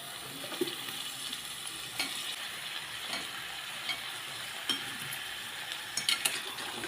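Eggplant and potato pieces are stirred into fried spice masala in a pan, making a soft continuous sizzle broken by scattered scraping taps of a spoon against the pan, close and fairly quiet.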